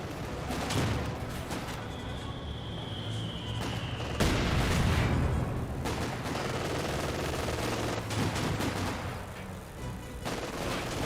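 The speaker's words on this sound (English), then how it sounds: "AT gun firing away" Anti-tank gun fire from Company of Heroes 2 booms repeatedly among a dense fusillade of rifle and machine-gun bursts, loud and continuous, with heavy impacts near 1, 4 and 6 seconds.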